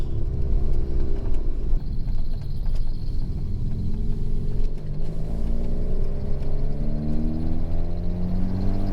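A rebuilt Ford Fiesta ST engine rumbles steadily throughout, with rising and falling revs as it drives laps, loud and close with no talking.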